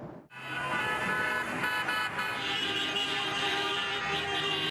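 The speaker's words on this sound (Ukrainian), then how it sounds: "десятки автомобілів їздять Дамаском із національними прапорами та увімкненими клаксонами" Dozens of cars drive through Damascus with national flags, their horns blaring together in celebration, a loud, continuous overlapping honking with street traffic beneath.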